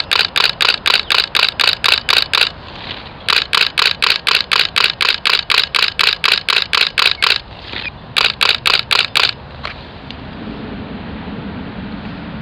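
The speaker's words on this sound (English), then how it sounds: "You hold that button and you snap away." Nikon D800 DSLR shutter fires in rapid bursts of crisp mechanical clicks, three long runs broken by short pauses, close and loud over faint outdoor wind.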